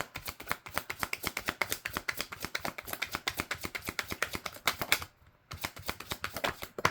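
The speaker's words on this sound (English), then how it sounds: "So easier to shuffle because they're thinner." A deck of thin cards being shuffled in rapid riffling bursts, a quick rhythmic flutter that pauses briefly near the end before starting again, close and fairly quiet.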